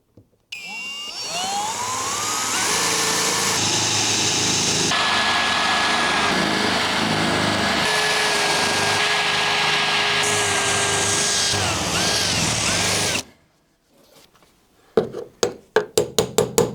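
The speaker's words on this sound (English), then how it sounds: "Drilling out the spot welds." A drill bores out spot welds on an A112 Abarth car body, a loud, steady high whine running for about twelve seconds before cutting off, followed by a few sharp taps and clicks.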